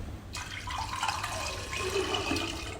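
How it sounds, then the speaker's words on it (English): Water flows from a drain tube on a SPA800 machine, a soft steady trickle and splash that starts abruptly after a brief pause and then runs continuously, close and fairly quiet. "The water will come out from this tube."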